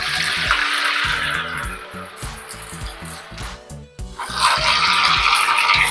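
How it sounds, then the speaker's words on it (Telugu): Sabudana and potato vadas drop into hot oil and fry with a loud, continuous sizzling hiss that briefly dips partway through, then swells again. "నేను ఆయిల్లో వేస్తున్నాను."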